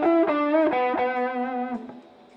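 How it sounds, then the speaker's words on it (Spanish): An electric guitar with heavy distortion is picked with a thick Tortex pick. Several sharp, ringing notes are struck in sequence and then sustain and fade, with no talking. "¿Y qué pasa si uso una plumilla de Tortex, la más gruesa que existe?"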